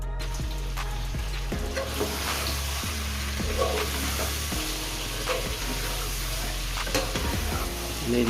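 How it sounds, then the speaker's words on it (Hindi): Cut potatoes fry in a pan of oil for aloo chicken, hissing and sizzling steadily, with repeated scrapes and knocks of stirring. "ये जो हमने आलू कट किए थे, ये हम इसके अंदर डाल देते हैं और इसको भी हम 2 मिनट के लिए भून लेते हैं।"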